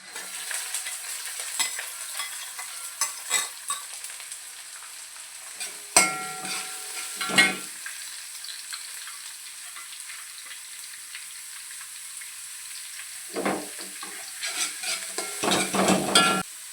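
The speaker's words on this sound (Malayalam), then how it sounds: "ഇനി ഇതിലേക്ക് നമുക്ക് വെജിറ്റബിൾസ് ആഡ് ചെയ്യാം." Vegetables including chopped capsicum stir-fry in a pan for vegetable fried rice, a steady close sizzle broken by intermittent scraping and clattering of a spatula against the pan, with no voices.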